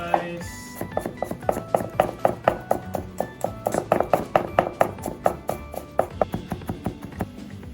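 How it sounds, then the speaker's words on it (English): Garlic sliced with a knife on a cutting board: a steady, fast run of crisp taps, about three per second, close and fairly loud, with no talking. "And next up, garlic. Cut in here. Slice them."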